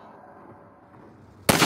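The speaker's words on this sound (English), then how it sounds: "Let me shoot out the latch." A single rifle shot fired at a latch in Half-Life 2: Episode One, a sharp loud crack after a quiet low hum, close and abrupt.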